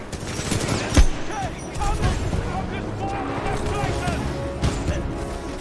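Rapid bursts of automatic supporting gunfire from a titan in Titanfall 2 crackle amid explosions and mechanical clatter, with spoken dialogue layered over the dense, fairly close combat.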